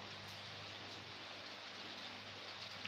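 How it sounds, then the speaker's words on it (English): Steady rain falls outdoors as an even, hissing wash of drops, constant and moderately soft with no talk over it. "Yes, it's raining."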